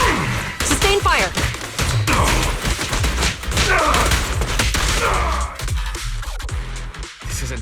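Sustained volleys of gunfire in the video game Zenless Zone Zero, dense bursts and impacts rolling on loudly and continuously alongside game music and voices.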